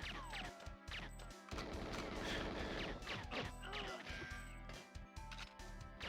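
Shooter game played on a Hyperkin Fleet Admiral N64 controller, with dense, continuous gunfire and crashing impacts layered over game music and effects, loud and busy throughout.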